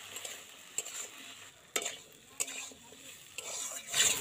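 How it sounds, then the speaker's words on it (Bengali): Salted potatoes and onion fry in a pan with a steady sizzle while a spatula stirs them, making several close scraping knocks against the pan. "আলু আর পেঁয়াজটা ভেজে নেব।"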